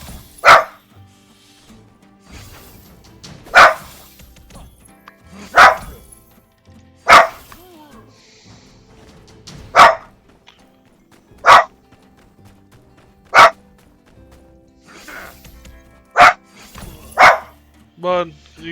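Mac, a dog in the video game My Time at Sandrock, barks repeatedly in single sharp woofs spaced a second or two apart, ending in a quicker cluster, with a person's voice faintly underneath.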